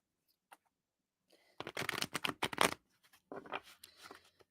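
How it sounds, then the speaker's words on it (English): Tarot cards are shuffled close by in a flurry of papery flicks and riffles, in two short bursts with a brief gap between them. "One more shuffle."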